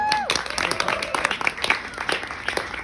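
An audience claps and cheers at a talk event, dense steady applause filling the room, with a few voices faintly above it.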